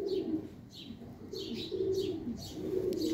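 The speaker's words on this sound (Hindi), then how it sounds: "बहुत ही प्यारा कबूतर है भैया" A female Kamagar pigeon coos in close range, a series of soft, low, rolling calls repeating about every half second over a quiet background.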